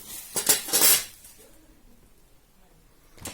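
Metal dough hooks and whisks from a Holmer HHM-14 hand mixer clatter as they are handled, a short burst of close metallic clinks followed by quiet, then one more brief clink at the end.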